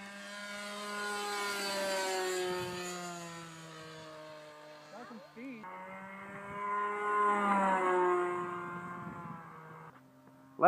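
Nitro gas-powered RC plane, rebuilt, flying overhead with a buzzing, high-revving small engine whose pitch rises and falls as it passes near and away, loud and alone.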